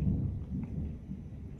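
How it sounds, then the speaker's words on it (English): Thunder rumbles outdoors on a rainy morning, a low, continuous, distant-sounding roll heard from indoors with no talking. "there's thunder outside."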